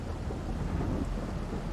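Steady rain in Farming Simulator 22 on Ebony Island, a continuous broadband hiss and low rumble that fills the whole stretch at an even, moderate level with no talk.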